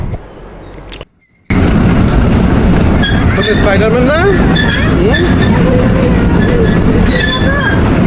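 A ride train at an amusement park in a resort rumbles loudly along its track with clattering wheels and squeals, following a brief quiet gap, while people talk over the noise.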